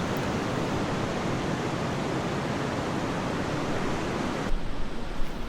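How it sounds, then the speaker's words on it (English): A stream named Big Creek pours into the ocean on the Oregon coast, giving a steady, loud broadband rush of flowing water and surf with no voices, briefly swelling near the end. "I came to a stream flowing into the ocean."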